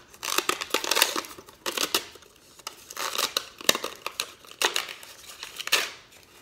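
A string art board with nails is being prepared as something is ripped off it, giving bursts of close tearing and crinkling that come in irregular pulses with short pauses between.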